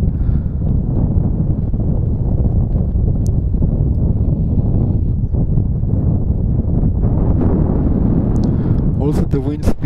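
Loud, continuous gusty wind at an F5J glider competition in Osnabrück, Germany, roars and buffets the microphone throughout, with the rumble surging and easing, and a few brief clicks near the end.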